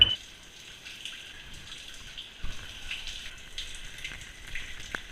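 Shower water runs and patters onto a smoke alarm in a quiet, wet spattering with scattered drip-like ticks and a couple of soft knocks, all fairly faint.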